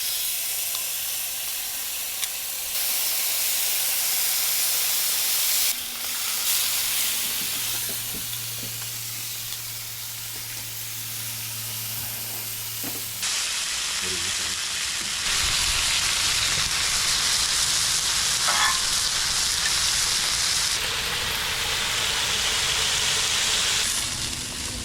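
Marinated pompano heads sizzle loudly on a Blackstone griddle outdoors, a steady dense frying hiss that swells when food is moved, with no talking.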